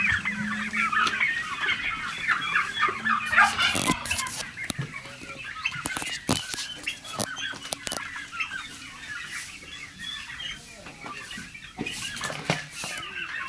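A flock of turkeys on a poultry farm keeps up steady clucking and chattering calls, close and continuous, with sharper individual cries rising over the busy background throughout.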